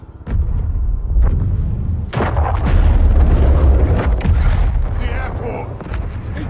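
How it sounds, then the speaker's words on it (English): An airport blowing up in the video game Modern Warfare 3, a loud, sustained rumbling blast with crackling debris that fills the whole stretch before tailing off slightly at the end. "The airport then explodes, and thus starts the fall of Verdansk."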